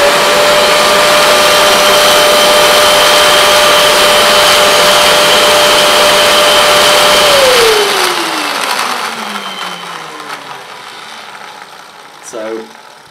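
A Vax Dual V Advance carpet washer running with its brushes spinning, a loud steady motor whine that then winds down and fades with a falling pitch.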